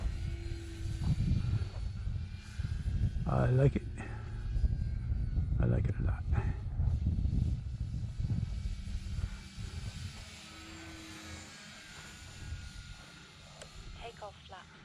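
An Air Tractor crop-duster airplane's engine drones steadily with a loud, broadband rumble inside the cockpit on a windy day, while people talk over it.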